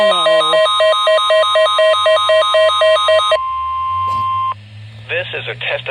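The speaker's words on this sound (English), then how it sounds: "This is a test of NOAA Weather Radio's warning device." A NOAA Weather Radio warning alert broadcast: a rapid warbling alert tone pulses for about three seconds, then a single long steady tone, followed by a broadcast voice starting to speak.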